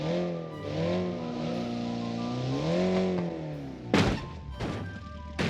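A custom-built manual car with a five-speed gearbox revs and accelerates in the BeamNG driving game, a loud, droning engine note rising and falling through gear changes before rough thumps and clattering impacts near the end.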